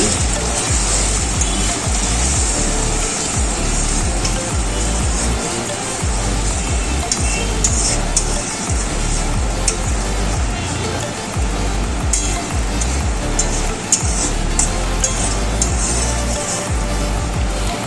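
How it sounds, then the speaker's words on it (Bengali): Cornflour mixed in water is stirred into a pan of restaurant-style chili fish, giving a loud, dense hiss and bubbling sizzle that runs throughout with faint stirring scrapes. "এবার নেড়ে চেড়ে নিচ্ছি"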